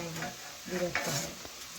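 Soft leafy greens are stirred and tossed in a hot wok to dry out, a continuous gentle sizzle with scraping stirs close up.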